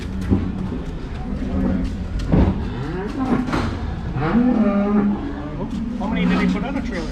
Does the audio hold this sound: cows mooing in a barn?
yes